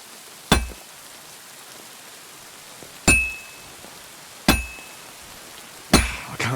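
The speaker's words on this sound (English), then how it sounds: "I have to hammer it more evenly." Blacksmith's hammer strikes metal on an anvil in the medieval game Kingdom Come: Deliverance II, four sharp ringing clangs spaced a second or more apart, each decaying briefly, over a faint background of rain.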